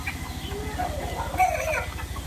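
Native desi chickens on a small home farm, clucking and a rooster's crow at close range over a low rhythmic background hum, with no talk.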